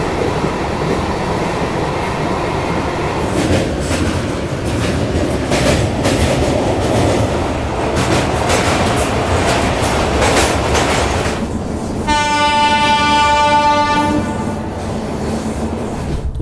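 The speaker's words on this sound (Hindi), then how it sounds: "हमारी train number 12239 Mumbai central Hisar Duronto express." The 12239 Mumbai Central–Hisar Duronto Express, hauled by a WAP-7 electric locomotive from the Vadodara loco shed, rumbles along steadily with loud continuous rail noise and wheel clatter, and a long horn blast sounds near the end.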